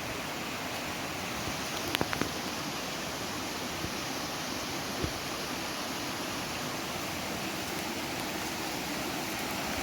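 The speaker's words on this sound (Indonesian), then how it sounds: "Cuma sungai." A river flows with a steady broadband rush of water, constant and fairly loud, with a couple of faint knocks and no talking.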